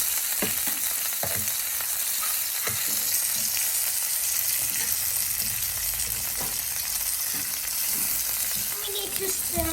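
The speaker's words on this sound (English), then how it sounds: "Now we're going to place in our shrimp." Shrimp fry in a hot pan for a stir-fry with broccoli in garlic sauce, giving a loud, constant sizzle and crackle with occasional stirring clinks, close by and without talk.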